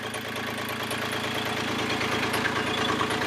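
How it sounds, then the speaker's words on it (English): A repaired sailboat engine idles steadily at close range with an even, throbbing pulse and a faint knocking rhythm, running alone without voices. "Engine sounds awesome."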